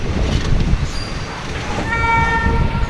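A passenger train rolls into the platform at Gandhinagar Capital railway station, a steady loud rumble of wheels and carriages with faint squealing tones rising toward the end, no voices.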